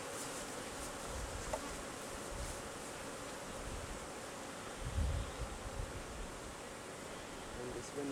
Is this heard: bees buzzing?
yes